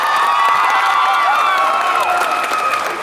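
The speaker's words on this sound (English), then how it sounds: "Everyone give Corey a big round of applause first." A crowd at a live session claps and cheers loudly for a participant, a continuous roar of clapping with whoops and high shouting voices throughout.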